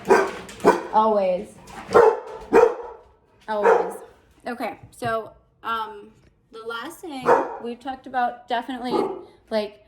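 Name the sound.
dog barking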